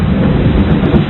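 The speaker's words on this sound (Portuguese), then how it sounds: "Tá chovendo." Heavy rain pours in a loud, dense, steady wash, with a low, rumbling thunder-like roar underneath and no voices.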